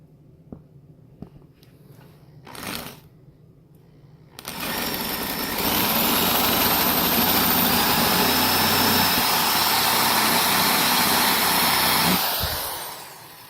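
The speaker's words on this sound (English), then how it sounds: "this is a 1/2 inch diameter drill bit" A loud, steady electric drill with a 1/2 inch bit whirs continuously for about eight seconds, boring a hole in an RV trailer after a few light knocks, then winds down and stops.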